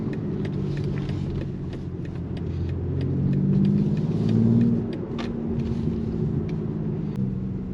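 BMW X4M Competition SUV heard from inside while driving, a steady low engine and exhaust rumble that swells under acceleration with faint crackling burbles, no talking.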